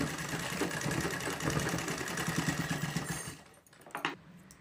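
A sewing machine whirs steadily while stitching pouch pieces together, then winds down, followed by a few faint handling clicks.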